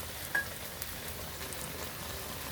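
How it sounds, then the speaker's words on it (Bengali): Beguni, eggplant fritters, frying in hot oil, giving a steady soft sizzle with faint crackles throughout, close by and alone without talk. "এরকম লাল লাল করে বেগুনিগুলোকে ভাজছি"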